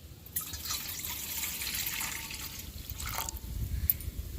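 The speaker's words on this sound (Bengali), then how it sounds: "এবার আমি এই গামলির মধ্যে কিছুটা পরিমাণ জল দিয়ে দেবো।" Water pours steadily into a basin set out for washing raw green mangoes, a continuous close splashing flow with a few brief drips, no voices.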